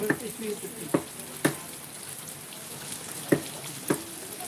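Unseasonal rain falling around Natepute town, a steady soft hiss with a handful of sharp, close taps scattered through it.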